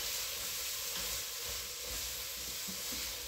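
Tomato paste cooking in a pan for braised beef short ribs, giving a steady, close sizzle with faint stirring scrapes throughout and no voices.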